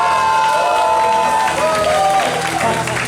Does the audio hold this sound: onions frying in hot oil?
no